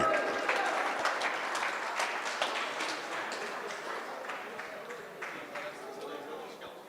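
Sustained crowd applause at a WDF World Open 2024 darts event for the defending women's champion, Paige Pauling, steady and full throughout with scattered sharper claps, gradually easing slightly toward the end.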